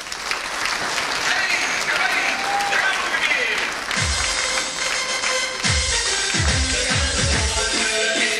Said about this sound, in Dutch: Dames en heren, een groot applaus voor Niek Rovers!